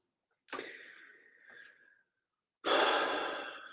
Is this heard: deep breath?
yes